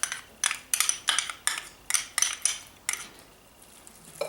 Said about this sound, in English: I've actually added in some minced garlic. We'll just toss that in there.